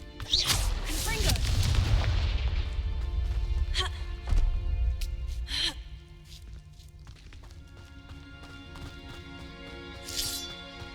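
Confringo fire spell blasts in Hogwarts Legacy, a loud booming explosion with crackling debris at the start, then quieter whooshing spell bursts and clinks over a low game ambience.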